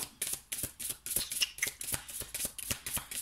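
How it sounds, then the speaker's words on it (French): Tarot cards shuffled and riffled by hand to draw a final card, a close run of quick papery flicks and slaps in uneven bursts, fairly soft. "J'ai envie de prendre une dernière carte."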